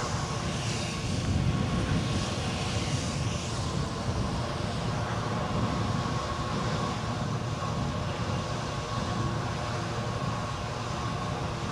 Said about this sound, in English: we've got a 320 from Paris next in, EasyJet